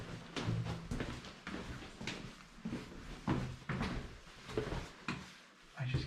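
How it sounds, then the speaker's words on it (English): A door slams inside a reputedly haunted building, heard as several faint, dull knocks and thumps among quiet shuffling, with people speaking softly. "I just got a huge door slam."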